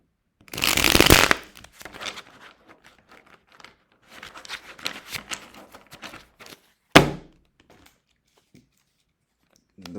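Tarot cards being shuffled by hand, a loud burst of riffling at the start, then scattered softer shuffles and taps, and a sharp slap of cards near the middle, close up with no talk.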